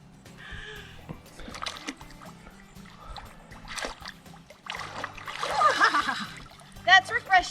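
Water splashing in a lake as hikers rinse off along a mountain trail, irregular sloshing and splatters that build toward the end, with voices talking intermittently.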